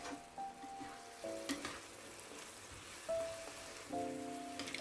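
Spinach frying in a pan turned up to full heat, a soft steady sizzle and crackle with faint clinks, fairly quiet and with no talking.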